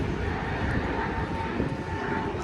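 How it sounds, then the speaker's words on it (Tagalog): An airplane passes overhead at Legoland in Billund, Denmark, its engine a steady, moderately loud rumbling roar that fills the whole short stretch without breaks. "Aeroplano."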